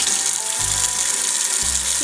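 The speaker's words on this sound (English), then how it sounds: "So now you want to rinse your brushes." Warm tap water runs steadily over makeup brushes being rinsed, a continuous close splashing hiss with soft low thumps as the brushes move through the stream.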